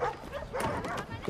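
Several dogs barking in Assassin's Creed III, a few short yaps and whimpers close by under someone talking.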